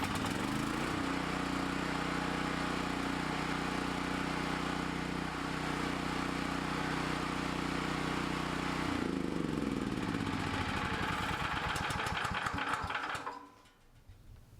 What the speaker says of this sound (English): start up the generator and let it run for a few minutes